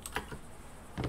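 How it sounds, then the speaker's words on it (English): A clicky computer keyboard gives a few faint, quick keystrokes close by, with a short pause before a final pair of clicks. "Sorry about if you can hear my clicky keyboard here"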